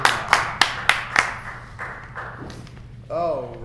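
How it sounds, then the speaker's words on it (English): Applause from an improv show audience for a performer, a run of sharp claps at first that then thins out into softer scattered clapping, followed by a brief voice. "Everyone audience give a big members. round of applause for Jason."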